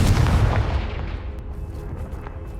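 The Confringo fire spell in Hogwarts Legacy explodes with a heavy, booming blast that starts loud and rolls into a fading low rumble, with small pops trailing off.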